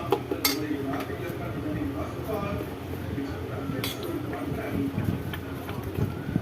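White millet paniyaram batter, made with ground sorghum flour and sautéed tempered ingredients, stirred in a bowl with a steady scraping and clinking of spoon against the dish, continuous and close.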